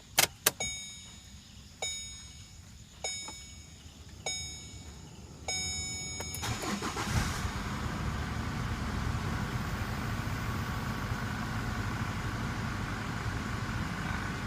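A 2012 Chevrolet with its EGR blocked starts up after a few clicks and chimes, cranking briefly then settling into a steady, close engine idle.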